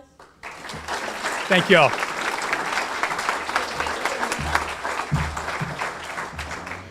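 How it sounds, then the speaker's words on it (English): Audience applause at a Kiwanis Club meeting: a sustained round of clapping from a room of people that fades out, with a voice speaking over it. "Can I have a round of applause?"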